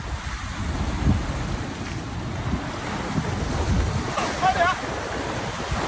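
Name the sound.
strong wind and big waves at the seashore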